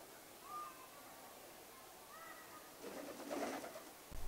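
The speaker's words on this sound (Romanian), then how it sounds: "porumbelul a mai crescut și zboară liber prin toate camerele, se așează pe brațe și se lasă mângâiat" A street pigeon turned house pet coos indoors in an apartment, a few soft, faint cooing notes followed by a brief flurry of rustling near the end.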